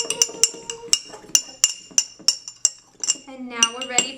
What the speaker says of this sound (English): So here we are mixing our dry ingredients together.